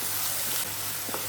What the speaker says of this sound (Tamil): இப்போ இதை நல்லா வதக்கிக்கோங்க.